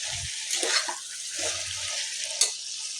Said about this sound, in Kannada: ಚೆನ್ನಾಗಿ ಫ್ರೈ ಆಗ್ತಾಯಿದೆ